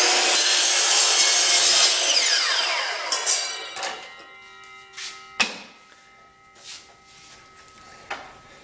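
A hand saw cuts an inside bevel on wooden molding for a display case, with rapid rasping strokes that fade out, followed by a few scattered knocks and taps from handling the wood.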